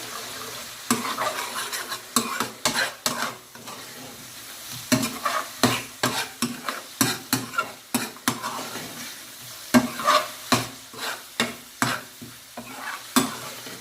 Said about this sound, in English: Okay, now we go in with the lemon juice and the coffee granules. Stir that in.